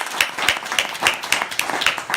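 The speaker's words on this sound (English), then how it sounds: "give yourself a round of applause too" Supporters at a concession speech clap in the room, a group of hands beating in an uneven rhythm with sharp, repeated slaps close by.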